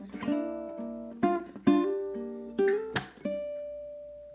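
A ukulele plays a measure of a song, with several separate strummed chords and one slid chord ringing out at the end, close and clear, with no voice.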